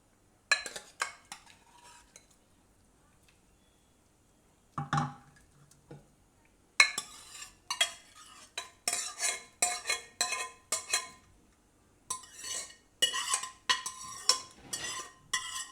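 Grated carrots stirred in ghee in a kadai over a gas flame give off intermittent bursts of scraping and clinking from the spoon against the pan, with short quiet gaps between strokes.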